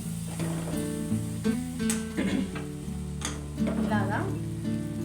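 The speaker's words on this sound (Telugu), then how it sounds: "నేనైతే జేంజా ఫ్రై చేసిన" Prawns fry in a pan with a steady, close sizzle and occasional stirring scrapes, alongside faint sustained tonal sounds.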